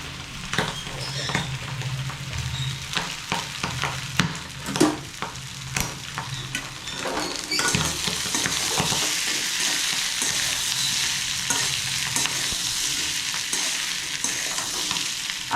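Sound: mutton liver frying and stirring with garam masala

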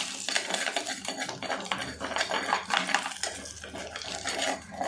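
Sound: stirring fenugreek in a pan for fish curry

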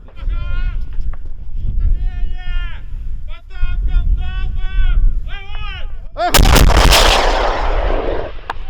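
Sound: artillery gun firing

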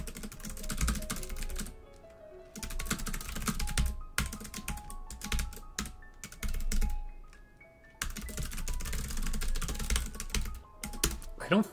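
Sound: typing on a computer keyboard

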